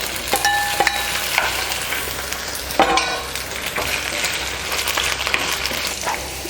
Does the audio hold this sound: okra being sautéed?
yes